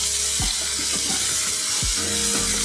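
Taro and shrimp seasoned with turmeric and salt sizzle loudly in hot oil, a steady broad hiss broken by a few low thuds and scrapes of stirring.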